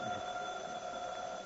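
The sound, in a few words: telephone ringing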